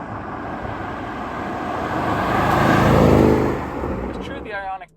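A Porsche Cayenne Turbo GT petrol engine roars as the SUV accelerates hard, the noise swelling to a peak and then easing off, with a brief voice at the end.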